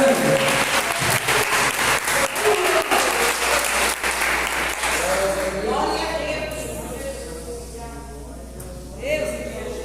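A church congregation claps throughout, dense and continuous, with voices speaking and calling over the applause before it thins out near the end.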